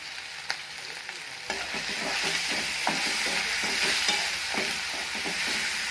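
Chopped onion, green chilli and tomato sizzle loudly in a hot pan while preparing safflower-leaf bhaji, with steady frying hiss and repeated stirring scrapes throughout.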